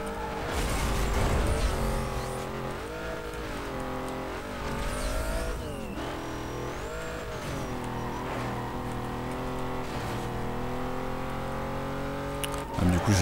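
A Ford Mustang's engine roars in Need for Speed: Most Wanted (2005), revving and shifting through gears with rising and falling pitch, loud and continuous, with a brief tire squeal and a sharp burst near the end.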